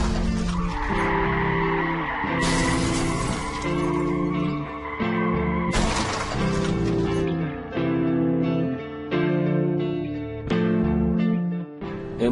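Tires skid and squeal at an intersection car crash, with sustained tonal screeching broken by two sharp noisy bursts. The sound is loud and close, with no talking.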